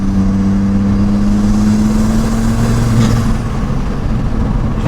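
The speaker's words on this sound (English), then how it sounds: "That pulls phenomenally well for 6 gear, doesn't it?" A 2.5-litre five-cylinder Ford Escort pulls in sixth gear with a loud, steady engine drone and road rumble heard from inside the car, its pitch rising slowly and easing off near the end.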